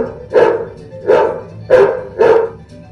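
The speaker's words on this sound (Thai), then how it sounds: "สียงหมาเห่า" A dog barks four times at an even pace, loud and close, with short gaps between each bark.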